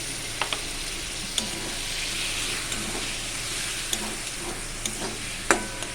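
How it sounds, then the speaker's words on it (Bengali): A spice paste (masala) sizzles steadily in hot oil while it is stirred, with sharp scraping taps of the spoon against the pan every second or so. The frying is close and there is no talk. "আমি মশলাটাকে ভালো করে কষিয়ে নেব যতক্ষণ না তেল ছাড়ে"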